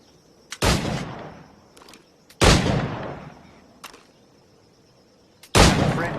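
Musket and pistol shots in Assassin's Creed 4: Black Flag, three loud sharp blasts spaced a couple of seconds apart, each with a ringing decaying tail, plus a few faint clicks between them.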